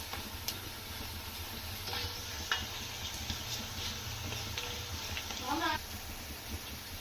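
Onions sizzle in a pan on a stove for a chicken curry and ghee rice, a soft continuous frying hiss with scattered scraping and clicking of a spoon stirring.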